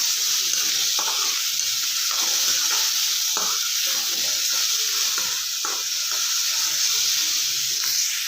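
Capsicum curry with salt, onion and tomato is stirred in an oily pan, sizzling and hissing steadily, with soft scrapes of the spoon recurring every second or so and no talking.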